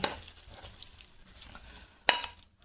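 A spoon stirs a potato stir-fry, a Kerala-style mezhukkupuratti, in a hot pan, making a soft continuous sizzle with light scraping and one louder clatter of the utensil near the end.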